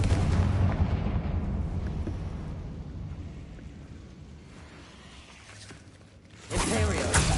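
A Confringo blasting curse explodes in a Harry Potter video game, a loud rumbling blast that fades over several seconds before a second sharp burst hits near the end, with a voice casting spells over it.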